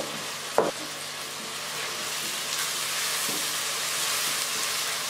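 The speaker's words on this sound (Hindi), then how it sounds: "ये देखिए हमारा टमाटर इसमें मिक्स हो रहा है।" Tomato is stirred and fried in a pan of oil, a steady soft sizzle with a sharp clack of the spoon near the start and faint scraping strokes later, no one talking.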